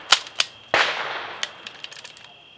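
A KCI Gen 2 polymer magazine is pushed into an MP5 and locks in with a few sharp plastic-and-metal clicks. One louder snap lands near the middle, with smaller ticks around it, all close and in an otherwise quiet room.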